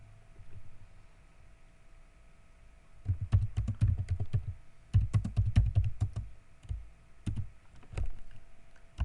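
Close keyboard typing starts after a quiet few seconds, then runs in quick bursts of clicking keystrokes with short pauses between them and no voices.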